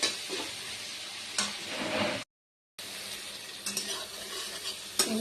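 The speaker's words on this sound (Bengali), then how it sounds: "হলুদ, আর দেবো একটু চিনি দিয়ে ওটাকে আমি ভালো করে কষাতে দেবো" A curry masala of spices with turmeric and sugar frying in a pan, a steady close sizzle with scraping stir strokes, cut by a brief silent gap before the sizzling and stirring resume.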